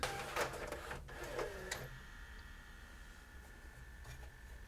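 LaserDisc player spindle motor spinning a disc with its puck removed, a steady mechanical whir with a faint tonal hum, preceded by a few brief clicks and knocks in the first two seconds.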